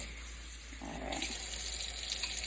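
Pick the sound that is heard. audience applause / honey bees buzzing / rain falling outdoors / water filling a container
water filling a container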